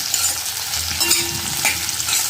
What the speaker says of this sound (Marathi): कांदा टाकल्यानंतर लगेच याला पर परतवून घ्यायचं